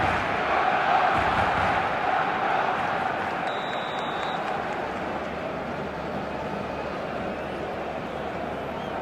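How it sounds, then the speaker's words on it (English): Stadium crowd roar from an eFootball video game match, a steady loud wash of cheering that eases slightly over time, with a commentator's voice over it and a brief whistle midway. "the crowd level has gone up a notch or 10"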